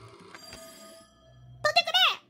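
A telephone in a video game rings in a few quick bright trills, loud and close, after a stretch of quieter background sound.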